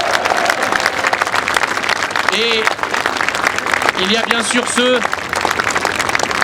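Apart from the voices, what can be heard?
audience applause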